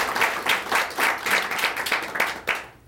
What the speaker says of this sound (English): If we could give these guys up here a big round of applause for being so courageous.